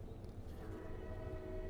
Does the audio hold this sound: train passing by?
yes